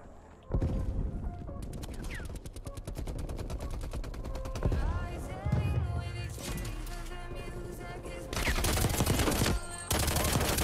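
Rapid shotgun and automatic gunfire in the Black Ops Cold War video game, dense loud bursts of repeated shots, with short pauses between volleys and a voice talking over parts of it.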